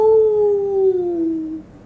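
A human voice imitates a wolf howl, with one long, loud, mournful tone that slowly slides downward and fades near the end.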